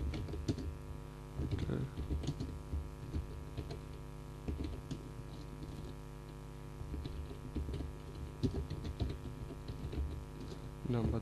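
Keys clatter steadily on a computer keyboard as code is written, a close, continuous run of typing with brief pauses over a low background hum.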